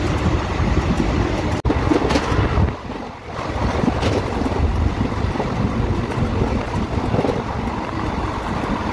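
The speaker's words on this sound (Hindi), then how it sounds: "આપણા ટ્રેનની કરંટ સ્પીડ તમે જોઈ શકો છો 100+ છે, એકદમ હાઈ સ્પીડ જર્ની છે।" A Rajkot to Bhuj passenger train running at over 100 km/h, giving a steady, loud rushing roar of wheels and wind that persists throughout, with a brief dip in intensity midway.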